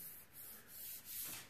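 Hand plane shaving a wooden theorbo rib blank, a soft, faint rubbing rasp in several steady strokes with no voices.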